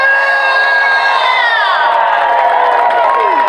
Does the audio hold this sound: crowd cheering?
yes